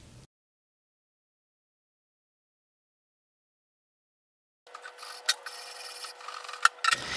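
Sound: sanding wooden dresser

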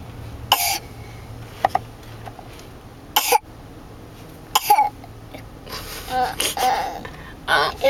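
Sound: child imitating dad's cough

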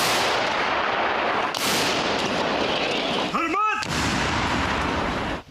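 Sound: howitzer artillery fire

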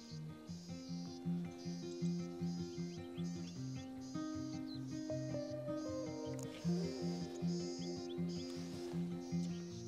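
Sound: birds calling in grass

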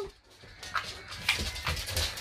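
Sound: dogs whimpering

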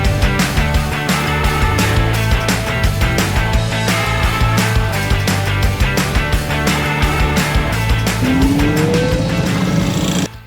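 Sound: walk-behind tractor digging garlic

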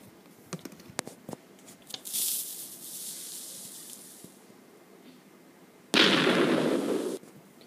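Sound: old TNT explosion sound from video game

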